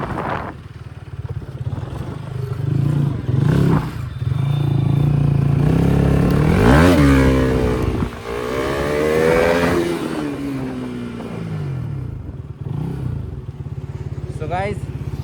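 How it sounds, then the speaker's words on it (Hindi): A motorcycle revs hard while a rider pulls wheelies on a ring road, the engine rising and falling in loud bursts close by, with voices talking over it for much of the time. "तो गाइस कुछ व्हीली चल रहा है रिंग रोड में।"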